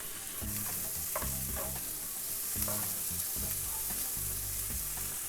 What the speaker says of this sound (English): I'm going to stir fry that for about, I don't know, maybe 2 to 3 minutes till it gets a little bit wilted